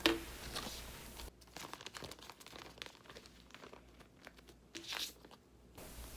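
Plastic IKEA zipper bags in 0.4 and 1 litre sizes being handled, giving close crinkling and rustling bursts at the start and again near the end, with softer handling noise in between.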